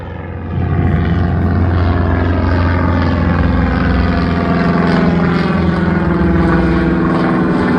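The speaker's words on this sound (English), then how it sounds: "There's a little plane. There's a little puddle jumper." A small propeller plane passes overhead near a hiking trail, its steady droning engine loud and continuous with a rising, slowly shifting pitch, heard alone without talk.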